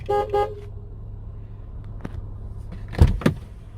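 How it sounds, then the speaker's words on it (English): A 2001 Mercedes-Benz E320 Avantgarde wagon sounds its horn in two short, loud, close blasts, followed by faint interior clicks and a low background hum. "Good sounding horn too."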